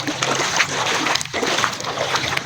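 Water splashes and sloshes steadily as someone wades through street flood water, a close, continuous churning with a few sharper splashes, while a voice talks faintly underneath.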